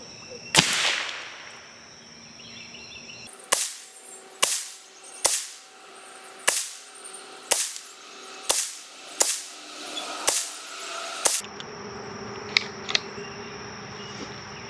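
Volquartsen 10/22 rifle firing during an accuracy test, a first sharp report followed after a pause by a steady series of about nine evenly spaced crisp .22 cracks, close and loud, with no talk.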